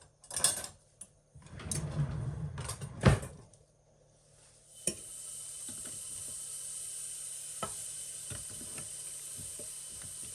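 Soup bones for Polish rosół broth are dropped into a preheated pot with a few knocks and clatters, then fry in a steady, bright sizzle that carries on alone.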